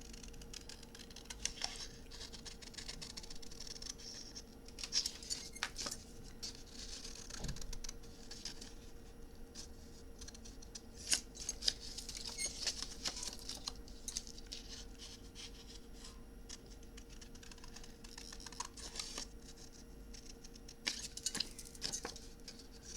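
Hand cutting round a traced paper flap with scissors for a rose garden memory book, heard as quiet, irregular snips and soft paper rustles spread across the whole stretch, close and faint, with no talking.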